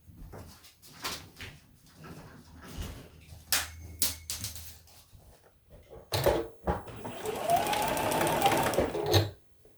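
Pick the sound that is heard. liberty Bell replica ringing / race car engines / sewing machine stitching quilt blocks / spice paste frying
sewing machine stitching quilt blocks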